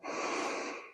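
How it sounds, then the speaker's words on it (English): A long, steady breathy exhale during a bent-over row, a broad airy rush that swells in quickly and holds for about a second before tapering, close and alone. "we're inhaling at the bottom position and exhaling as we pull"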